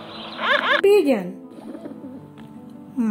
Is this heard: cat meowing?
no